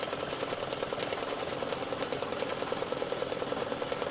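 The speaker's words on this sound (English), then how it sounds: "it's just going to stitch a running stitch all around the outside edge of the tree" An embroidery machine sews a tack-down running stitch around a tree shape on an in-the-hoop Christmas gift tag, giving a steady, fast mechanical whir with even rhythmic needle ticks throughout, close and moderately quiet with no voices.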